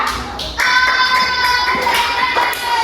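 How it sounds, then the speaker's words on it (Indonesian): Children in a third-grade elementary classroom clap for a classmate, a short burst of taps and claps that starts partway in, with young voices around it. "tepuk tangan untuk Jaya"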